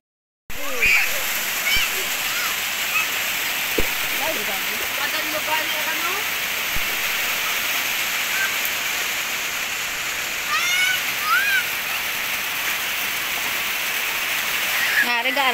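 Floodwater rushes in a continuous broadband roar during a flood, steady and fairly loud throughout, with faint distant voices and occasional small splashes mixed in.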